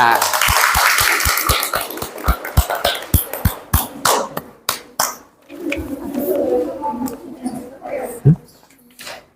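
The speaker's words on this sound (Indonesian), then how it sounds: "Tepuk tangan buat mereka." Scattered hand clapping from a classroom of students after a group presentation in a biology teaching practice session, a burst of sharp claps that thins out to a few isolated ones, with murmuring voices afterward.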